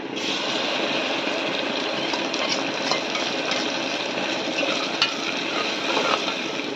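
Onions sautéing in oil in a pressure cooker pan while tomato rice is made, a steady, dense frying sizzle with soft stirring scrapes, close and continuous throughout.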